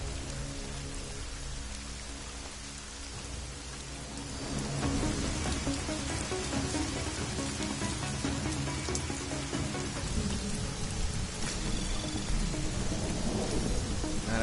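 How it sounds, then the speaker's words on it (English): Steady rain with rumbling thunder in the video game Deus Ex: Mankind Divided, quieter at first and then swelling into a dense, continuous downpour with no voices. "Man, I could hear the rain."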